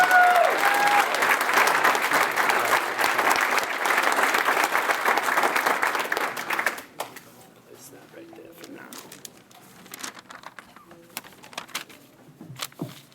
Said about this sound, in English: please give a round of applause for class of 2005 Hall of Fame inductee